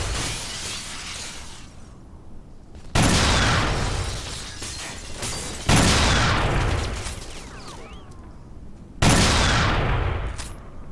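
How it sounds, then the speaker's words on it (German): Gunfire from sniping in a graveyard-map shooter game: three loud, sharp shots spaced a few seconds apart, each with a long echoing decay under steady background noise. "Moorhuhn schießen, mal anders."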